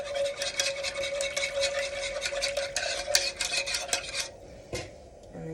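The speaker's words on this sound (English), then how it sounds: "I'm going to give this a good stir and get in the edges." A spoon stirs and scrapes gumbo around a pot with a brisk, steady rhythm and a faint sizzle beneath, then the stirring stops and a single utensil clink follows, close and moderately quiet.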